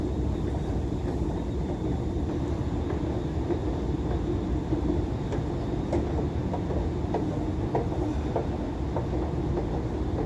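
A metro train pulls into an underground station, a steady low rumble and rolling hum of carriages with faint rhythmic clicks, continuous and fairly close, with no talking.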